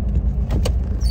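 A 1987 Toyota 4Runner SR5 with a 22RE engine and 5-speed manual, a brief low steady engine rumble up close with a couple of faint mechanical clicks on top.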